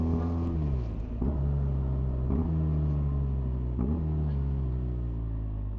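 A 2026 BMW R1300RS motorcycle engine hums steadily, then its revs jump sharply as the automatic blipper works on each downshift, repeating several times at a close, even level.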